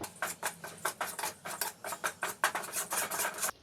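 Fine wheat flour being roasted in ghee is stirred in a steady rhythm of soft scraping strokes, around fifteen in quick succession, fairly quiet and close, before stopping abruptly.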